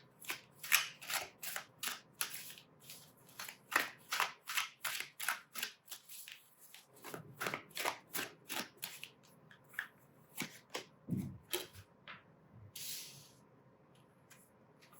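Tarot cards are shuffled and pulled from a deck. Quick, crisp riffling snaps and flicks arrive in rapid bursts close to the mic, with short pauses between them. The sound is fairly quiet overall, and there is no speech.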